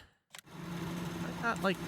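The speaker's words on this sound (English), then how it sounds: "let's get the other tractor going here." A tractor engine idles in the farming game Farming Simulator 19, a low, steady, quiet hum that runs throughout, with a voice talking over it toward the end.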